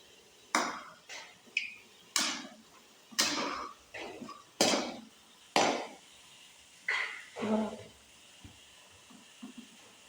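Spoon stirring in a pot: a series of irregular metallic scrapes and knocks, about a dozen moderately loud strokes, with some quieter clinks between them and no steady talk.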